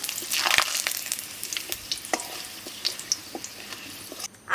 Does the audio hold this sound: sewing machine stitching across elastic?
no